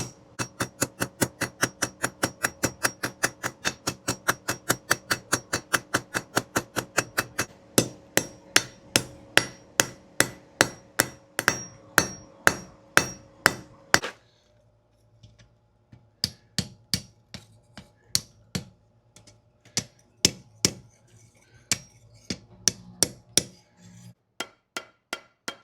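A blacksmith hammers hot iron on an anvil to spread it, steady rhythmic ringing blows in long runs, fast and even at first, then slower strikes after a brief pause, close and clear.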